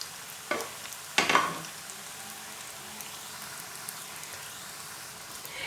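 Potato sticks fry in oil over low heat, a faint, soft crackle like light rain with a couple of sharper splashes or clatters early on as more sticks drop in.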